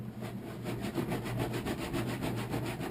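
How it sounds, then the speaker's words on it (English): Steady rasping scrape of sanding across a buckskin hide to soften it, continuous and close with a quick repeating back-and-forth rhythm, no talking. "They simply sand that hide."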